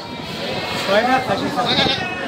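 Goats bleat amid the crowd noise of a busy livestock market in Jhikargachha, Bangladesh, several calls rising over steady chatter and murmuring voices.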